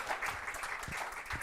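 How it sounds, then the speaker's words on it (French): Brief burst of applause from a studio audience at a French live health broadcast, dense steady clapping at moderate level with a few low thumps, no talk over it. "On peut quand même les applaudir."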